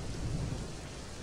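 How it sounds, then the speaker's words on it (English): Rain and rumbling thunder in a Roblox camping video game, a steady hiss of rainfall with a low thunder roll underneath, loud and continuous with no talk. "It's beginning to rain."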